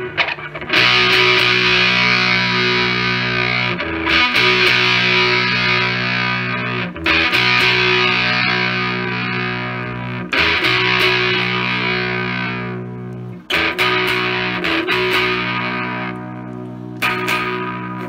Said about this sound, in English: As most Big Muffs, distortion or sustain is your level of clipping.